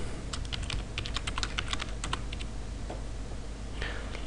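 Keys on a computer keyboard are tapped in quick light clusters as a title is typed, close and fairly quiet over a steady background hiss, pausing briefly before a last few taps.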